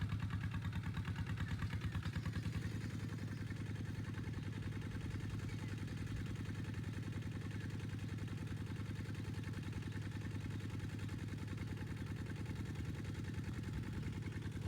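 A walk-behind tractor engine harrowing a rice paddy, steady and chugging mid-pitched at close range, its rapid mechanical thumping and clatter holding at an even level throughout.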